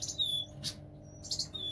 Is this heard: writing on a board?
no